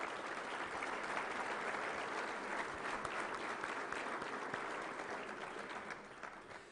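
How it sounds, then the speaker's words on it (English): A banquet hall audience at an awards ceremony gives sustained applause for the hotel staff, a dense even clatter of many hands that tapers slightly toward the end. "How about a round of applause for the hotel staff?"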